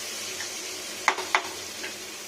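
Chopped garlic sizzling in hot oil for a kohlrabi curry with prawns, a soft steady hiss broken by a few sharp scraping stirs of a utensil against the pan.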